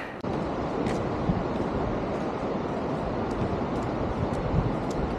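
A Himalayan mountain river flows far below the Annapurna trek, heard as a steady broadband rush of water with faint wind buffeting, unbroken and even throughout.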